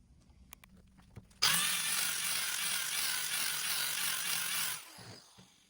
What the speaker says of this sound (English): we'll just weld it to hold it for now